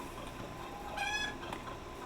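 Chicken in the survival video game Icarus giving a short, soft cluck, a single brief call in the middle over steady game background noise.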